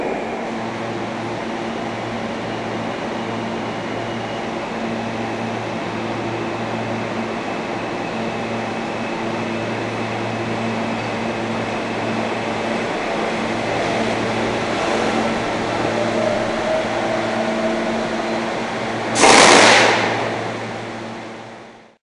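A New York subway V local train runs along the 6th Avenue line, a steady rumbling interior drone with a low hum that swells slightly, then a sharp loud hiss near the end before fading out.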